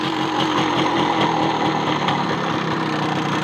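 An MZ 150 two-stroke motorcycle, just started after three years of standing, idles with a steady rhythmic chug and a faint whistling note running through it, close and loud, with no talking.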